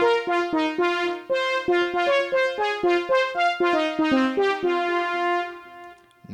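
An attempted recreation of a song's lead synth plays a bright, buzzy monophonic melody of short staccato notes in a bouncy rhythm, loud and close with no voices, ending on a held note that fades.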